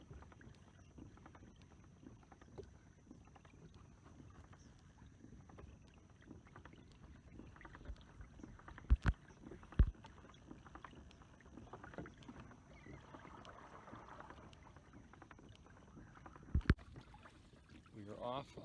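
Hobie Adventure Island sailing kayak gliding over the sound on a calm, nearly windless morning, with a low steady wash of water and faint breeze, a few sharp knocks and clunks from the hull breaking through.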